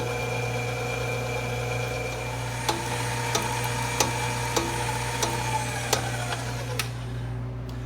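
A mixer running on low through ricotta cheesecake batter with half and half makes a steady, even motor hum, with faint, regular ticking clicks spaced about a second apart.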